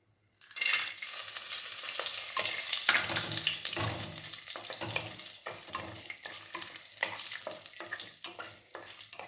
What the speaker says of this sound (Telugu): చూడండి, మిరియాలు ఏగినాయండి